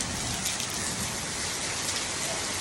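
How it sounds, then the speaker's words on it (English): Heavy rainfall in Mallorca hisses and patters steadily across surfaces, a dense, even roar with no pauses or voices. "They had this insane level of rainfall"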